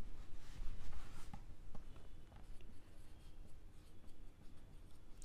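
Scratchy, continuous strokes of writing on paper or a board during a Class 10 probability maths lecture, close and steady with brief pauses between strokes and no talking.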